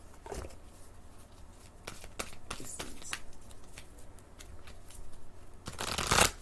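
A deck of tarot cards is shuffled up close, with soft riffling and sharp flicking bursts scattered across a quiet room, ending in a louder, brisk riffle.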